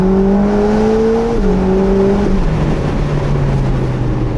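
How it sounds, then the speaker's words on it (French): A Ferrari Roma Spider's V8 engine drones loudly and steadily, its pitch stepping through gear changes, with a continuous rumbling roar and no voices. "Sous le capot, c'est un sacré moulin ce V8."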